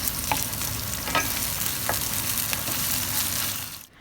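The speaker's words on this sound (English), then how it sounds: "Add 1 cup of tomato paste and saute it." Tomato paste with garlic and ginger sizzles steadily in a hot pan, with a few scrapes of stirring breaking through before the frying sound cuts off near the end.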